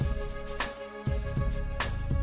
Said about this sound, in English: It has a percussion sound which is more than just clapping, but it sounds like this.